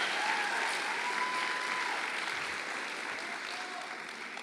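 A church congregation applauding together at a celebration service, a dense, even wash of many hands clapping that holds steady throughout and tapers slightly near the end, with no voices standing out.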